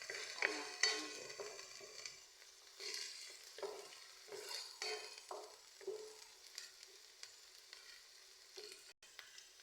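Garlic and ginger sautéing in a pan for creamy shrimp, with repeated stirring strokes and scrapes over a soft sizzle, close and fairly quiet, with no voices.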